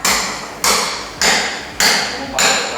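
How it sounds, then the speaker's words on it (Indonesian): A chisel strikes the wall of a koi pond four times in an even rhythm, each blow a loud, close, sharp knock that fades before the next. "makanya dipahat sebentaran aja 2 kali geduk, 3 kali geduk dia udah somplak"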